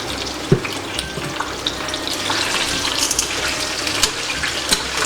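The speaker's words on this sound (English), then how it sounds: "on a medium-high heat, as I mentioned, just lightly fry your peppers" Bell peppers for kielbasa with peppers lightly frying in a pan on medium-high heat, a steady close sizzle with occasional pops and soft clinks of stirring, no voices.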